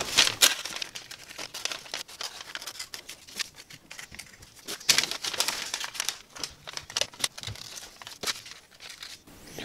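Sharp, irregular scissor snips cutting paper filters and crisp paper crinkles, close by, in bursts with short pauses between cuts.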